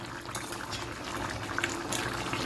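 Chicken do pyaza curry liquid bubbling at a vigorous boil as it reduces, a dense continuous stream of popping bubbles close by, with no one speaking.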